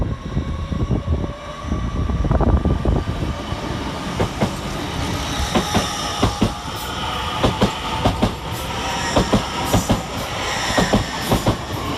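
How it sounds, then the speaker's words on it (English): Hull Trains Class 802 Paragon unit pulling out of Doncaster station, a loud steady rumble with rhythmic clickety-clack of wheels over rail joints and a faint squeal, building as the train gathers pace. "Departing 44 minutes late is Paragon 802 302, working the 11:27 Hull train service from London King's Cross to Hull."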